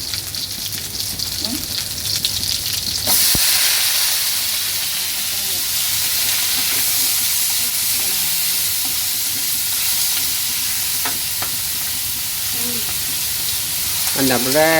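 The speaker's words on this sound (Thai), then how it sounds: "เจียวหมูก่อนแล้วก็ เจียวหมูกระเทียม" Pork and garlic frying in a pan for a home-cooked stir-fry, a loud, steady sizzle with hissing bursts that swells suddenly and runs throughout, with faint voices now and then.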